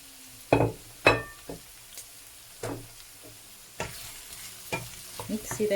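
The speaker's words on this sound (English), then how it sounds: "After it has cooked for a while, I'm going to go ahead and add in my peppers." Green, orange and yellow bell peppers go into a pan of softened eggplant, with bursts of spatula scraping and clatter over a soft sizzle, close and with no talking.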